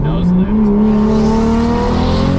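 A Toyota GR86 with a swapped-in 2JZ engine runs close by, its deep droning note climbing smoothly in pitch as the revs build over a couple of seconds.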